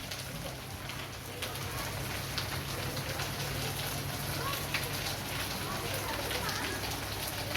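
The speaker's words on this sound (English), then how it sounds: "We keep getting rains, you know, that normally are already gone this time of year" Rain falling steadily at a beach house construction site, a dense continuous patter on surfaces with a low background hum throughout.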